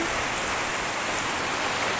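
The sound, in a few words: heavy rain falling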